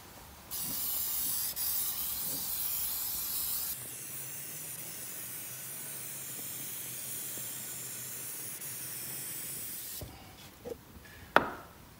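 Rust converter is sprayed in a light coat onto a 42-inch John Deere mower deck: a hiss of a few seconds, a longer steady spray of about six seconds, then a few faint knocks and clicks near the end.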